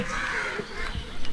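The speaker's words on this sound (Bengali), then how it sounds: "পাখিগুলো ডাকছে, খা খা করছে," A crow caws a couple of times at moderate distance against a hazy outdoor background among buildings in Rajshahi, Bangladesh.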